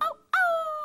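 A voice imitates a dog's howl, a short yelp and then a long, steady, slightly falling howl, close and loud with no other sound around it.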